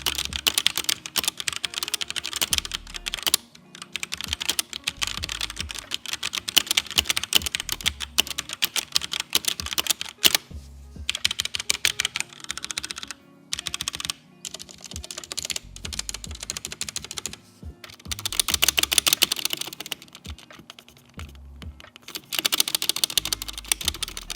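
Steady, close typing on a HyperX Alloy Origins Core tenkeyless mechanical keyboard with tactile switches, a dense run of clicky keystrokes with brief pauses between bursts, no voices.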